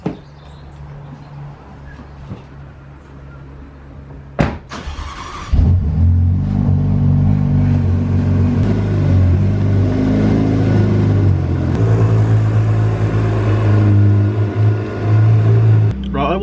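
A Ferrari F8 starts up with a sharp burst, then settles into a loud, steady, deep engine rumble that continues while pulling out, with a person talking over it.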